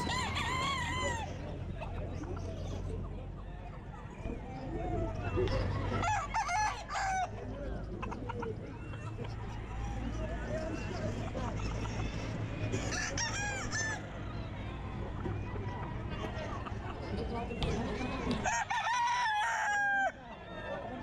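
A rooster crows loudly several times amid steady clucking from a flock of chickens, with ambient noise of a pet market in Baliuag throughout.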